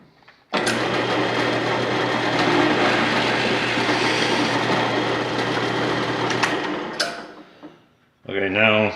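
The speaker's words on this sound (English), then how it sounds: "So I'm going to drill at that point there, which is the center." A power drill bores a center hole for a bolt and captured nut in an urn, starting abruptly with a loud steady whine for about six seconds before winding down, followed by a voice speaking.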